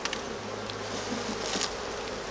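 Honeybees buzz close by during a hive inspection as smoke is applied and they grow agitated, a steady droning hum with a few sharper wingbeat rises, no talking.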